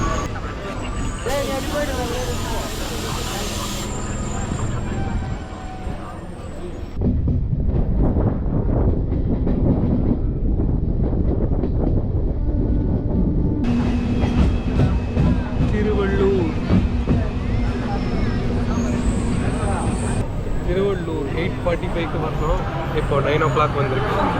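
A MEMU passenger train on the Tiruvannamalai to Chennai Beach line rumbles along with a continuous loud rolling roar, heard from inside the carriage with chatter and speech throughout.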